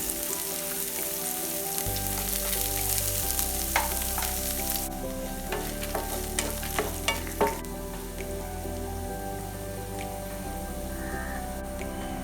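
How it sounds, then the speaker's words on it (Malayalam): Lentils, onion, garlic and dried chilli sautéing in a pan give a steady close sizzle throughout, with scattered clinks and scrapes of stirring in the middle stretch; no voices. "ആ പച്ചമണം പോണ വരെ നമുക്ക് ജസ്റ്റ് ഒന്ന് സോട്ട് ചെയ്തെടുക്കാം"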